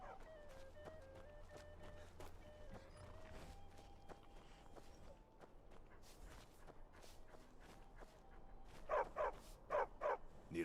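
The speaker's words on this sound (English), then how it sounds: "Need a trained war dog?" A trained war dog in the video game Skyrim barks and yips amid ambient game sounds and footsteps, with a burst of loud barks near the end.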